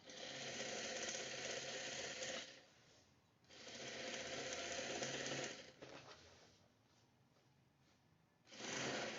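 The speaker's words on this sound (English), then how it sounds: "And just go ahead and stitch your new line all the way down." Sewing machine stitching a tapered pant seam, running in steady rapid bursts that stop and restart with short quiet pauses between runs, close and clear with no talking.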